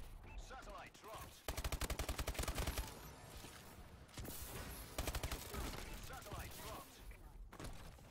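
Gunfire from an online Uplink match in Call of Duty Advanced Warfare: a rapid burst of repeated shots and a later cluster of blasts, all fairly quiet and mixed with constant game noise.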